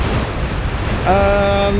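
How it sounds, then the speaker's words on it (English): Ocean waves and gusting wind at sea aboard a sailboat on a solo passage from Martinique to Panama, a loud continuous rushing wash, joined partway through by a steady tonal whine. "I found out when the waves starting to be really nasty and I saw the wind was picking up more and more"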